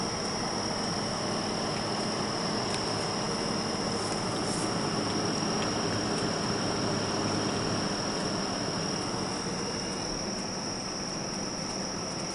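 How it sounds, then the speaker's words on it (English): Crickets chirp in woods in a constant, high-pitched drone over a faint background hum, steady and unbroken throughout. "Right now, I hear mostly crickets. Literal crickets."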